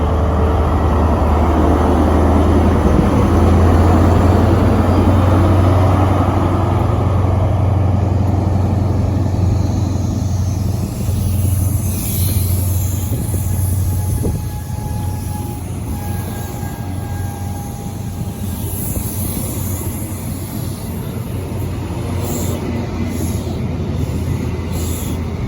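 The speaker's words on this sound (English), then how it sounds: "going out now is the 1552 Cross Country service to Penzance" A Cross Country HST led by class 43 power cars departs Cheltenham Spa for Penzance, its loud diesel rumble strongest at first and then easing as the train pulls away, with faint wheel squeal in the later part.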